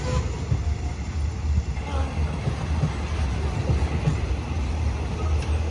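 A passenger train hauled by Alsthom locomotive 4124 rumbles steadily along the tracks near Nong Pla Duk junction, Thailand, a continuous low roar with faint rhythmic clatter and a voice speaking over it.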